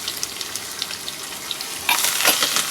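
Onions, cumin and curry leaves fry in a pan, a steady close hiss with light crackle that swells into a louder, harsher sizzle in the final second, with no talking.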